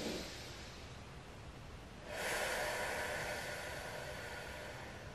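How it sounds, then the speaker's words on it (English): One person breathes out slowly, deeply and forcefully, a long airy hiss that swells midway and holds steady, close and alone over a faint background noise floor. "I want you to be able to hear yourself exhale."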